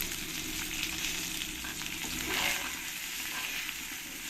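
Potatoes frying in a pan with salt and turmeric, a soft steady sizzle with light stirring scrapes, close and fairly quiet, no voices.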